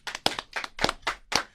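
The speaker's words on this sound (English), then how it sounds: "Let's give a live hand clap for Mr. Dwight Howard" A small group claps for Dwight Howard: about six distinct, uneven bursts of hand claps at close range, sharp and separate, with no talk.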